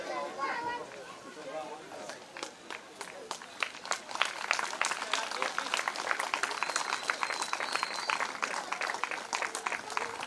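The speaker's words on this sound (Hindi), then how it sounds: "जोरदार ताली बजाते रहिएगा।" Sustained clapping from an audience at a live Ram Katha devotional recital in a village, dense and steady applause swelling over several seconds, with a voice speaking briefly at the start.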